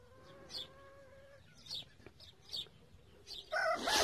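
A native rooster crows at a bird and poultry market in Casablanca, a drawn-out call near the start, followed by scattered clucks and chirps from other birds in a busy market setting.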